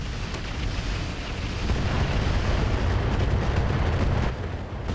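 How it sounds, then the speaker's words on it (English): Sustained heavy weapons fire in the RogueTech mech battle game, aimed at a Gorgon mech: a dense, loud rumbling barrage of booms and blasts that rolls on without a break, with no talking. "I think we fire on that Gorgon."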